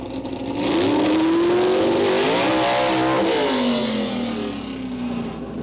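A drag race car at Boundary Bay Raceway does a burnout, its engine roaring loud and close with a rising, wavering rev that holds high before easing back down.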